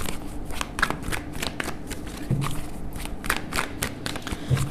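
A deck of tarot cards being shuffled by hand, a series of quick riffling and flapping bursts close up, repeated in an uneven rhythm with soft taps between them and no talk.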